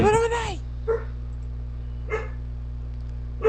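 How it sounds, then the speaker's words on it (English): A pet dog barks several short, sharp times, apparently from the next room, while a steady hum runs underneath, with a voice heard briefly at the start. "Wait, is that your dog or the neighbor's dog?"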